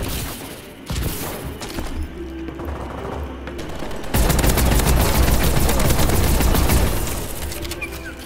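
Sustained automatic gunfire from a Team Deathmatch match in Call of Duty: Advanced Warfare, a rapid rattling stream of shots that grows louder and denser midway, loud and continuous with no talking.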